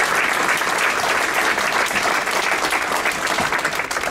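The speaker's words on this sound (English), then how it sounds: "Let's give another round of applause for Mr." Applause for an honoree at a school district staff awards ceremony, a dense, steady wash of clapping from a large audience that holds at full strength for the whole stretch.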